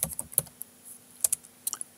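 Brisk, close typing on a computer keyboard while writing code comments, quick clusters of crisp key clicks separated by short pauses in a quiet room.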